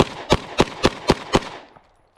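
Five rapid pistol shots from a Glock 45 loaded with Mec-Gar magazines, evenly spaced and sharp, fired close with a short decaying echo after the last shot.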